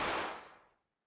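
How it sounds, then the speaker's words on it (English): A single sharp gunshot from the video game Collar X Malice bursts out and decays within under a second, heard alone. "There were 2 gunshots."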